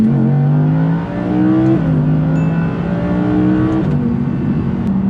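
A loud, high-revving naturally aspirated V10 engine in an Audi R8 V10 Performance pulls hard through the gears, its pitch climbing and dropping twice with each shift, close and continuous.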